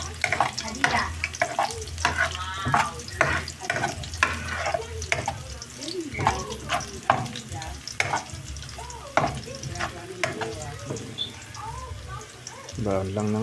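A little garlic frying in a pan for adobo, with scraping stirs and clattering utensil hits over a steady sizzle; people talk intermittently throughout.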